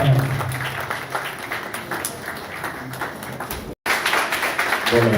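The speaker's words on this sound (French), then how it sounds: "on s'applaudit encore très fort" Wedding guests at a civil and religious ceremony in Grand Lahou applaud in a sustained patter of many hands, briefly cut off by a short gap, with voices mixed in beneath the clapping.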